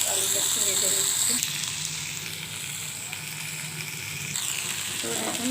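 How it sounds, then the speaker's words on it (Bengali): Potatoes sizzle steadily while frying in a pan for a mustard-paste dish. The crackle stays loud and continuous throughout, with a faint voice briefly underneath. "আলুটা একটু ভেজে নিচ্ছি।"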